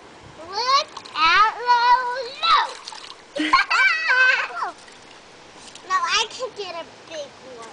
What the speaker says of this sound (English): Make a big one, a big splash.